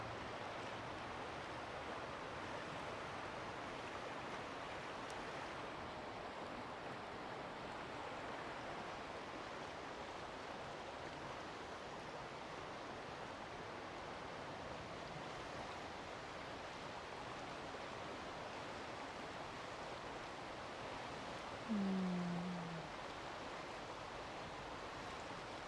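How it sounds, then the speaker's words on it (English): A river flows steadily as a broad, even rush of water, continuous and fairly close, with no voices and only one brief faint tonal sound near the end. "And now I will say no more and simply listen to the river."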